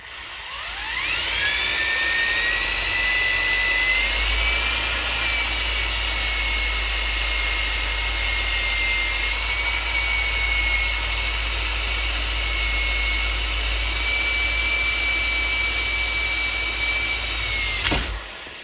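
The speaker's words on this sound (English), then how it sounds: "we're going to take our flapper wheel and clean this up a little bit" High-speed flap wheel grinding on a Redcat Rovan hybrid RC car build, a loud, sustained shrill whine that spins up quickly, holds steady with slight pitch wavers for about sixteen seconds, then stops, close and alone.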